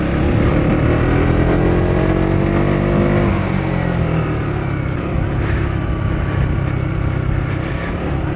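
A motorcycle engine drones steadily throughout, with a slight rise and fall in pitch as the rider eases the throttle on and off.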